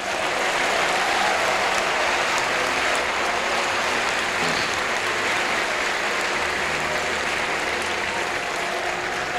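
Church congregation applauding during a sermon, a dense, even roar of many hands clapping that stays loud and sustained throughout.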